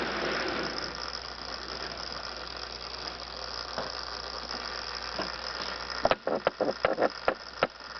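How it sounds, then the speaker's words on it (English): A worn electric motor with tired brushes or armature hums steadily inside a Nishijin KanLess pachinko machine, a constant mechanical drone, then a burst of sharp rattling clicks near the end. "that's the sound of the motor"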